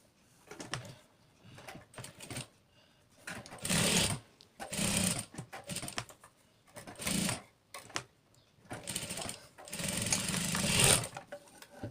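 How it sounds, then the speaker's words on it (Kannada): A sewing machine stitches a hanging dori cap in several separate bursts of fast mechanical whirring, each a second or two long, with short quiet pauses between runs, close and moderately loud. "ಈಗ ನೋಡಿ ಈ ರೀತಿ ಸ್ಟಿಚ್ ಮಾಡ್ಕೊಂಬಂದಿದ್ದೀನಿ"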